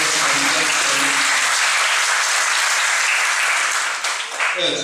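Audience applause, a loud and dense burst of clapping from a crowd that holds steady for several seconds, with a voice briefly over the opening and a speaker resuming at the end.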